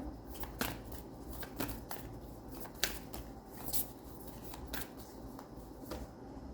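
Tarot cards are shuffled by hand in a rapid riffling run of crisp flicks and snaps, a few sharper slaps standing out, close and alone with no talking over it.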